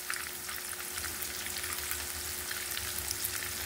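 Eggplant and egg fry steadily in hot oil, a continuous crackling sizzle that stays even and fairly close throughout, with no voices over it.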